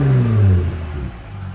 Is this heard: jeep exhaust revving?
yes